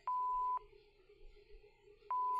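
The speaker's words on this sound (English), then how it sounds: "I hear beeping, but this doesn't seem like a hospital or a hospital room" Two clear electronic beeps sound in a video game, each about half a second long, spaced well apart over a quiet background hum.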